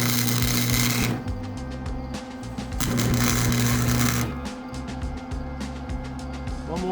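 Metal being tack welded, with two long buzzing bursts of steady electric crackle separated by shorter sputtering stretches, close and loud with no talk.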